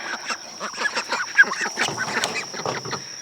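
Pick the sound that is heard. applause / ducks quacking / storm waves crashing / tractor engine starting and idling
ducks quacking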